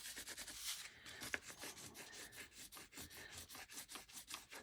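Rhythmic rubbing strokes over a gel print, like a coin rubbing, soft and close, with repeated scraping passes at an even pace.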